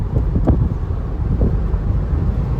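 Steady low rumbling wind buffeting inside a 2007 Mercedes-Benz CLK 550 V8 convertible while driving, a continuous broadband roar with faint road noise underneath and no talk.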